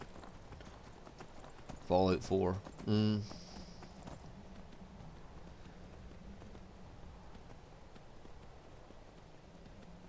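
Horse hooves clip-clopping in the Skyrim video game, a few short bursts of hoofbeats close together near the start, with someone talking over a low background hum.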